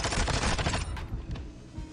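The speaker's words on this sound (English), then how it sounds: "I'm gonna jump around the corner and jump shot him and get that first shot" A burst of rapid automatic gunfire from a jump shot in Modern Warfare II ranked play, loud and close for the first second, then cutting off into quieter game ambience.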